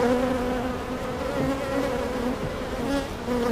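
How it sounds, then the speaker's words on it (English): Dense, steady drone of honey bees buzzing in a hive, close and loud, with the hum wavering slightly in pitch. "there's just not enough bees in this top box"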